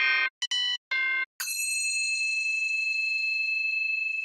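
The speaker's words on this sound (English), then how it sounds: "Chime." Synthesizer chime tones from a remix production session: a few quick bright pitched notes, then one high shimmering chime that holds and rings out for about three seconds, with no talking.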